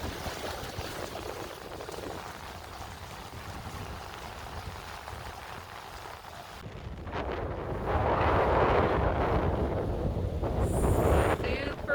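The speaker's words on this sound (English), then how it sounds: "Windy." Gusting wind on the Mississippi River buffets the microphone in a steady roar, growing louder and harsher in the second half, with faint voices beneath.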